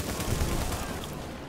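Video game gunfire, a dense rattling fusillade of rapid shots that is steady and fairly loud through the short stretch, with no voices.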